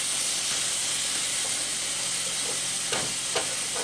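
Curry chicken sauce stirred in a pan on the stove, with a steady close sizzle and hiss and a couple of brief scraping strokes near the end. No one speaks.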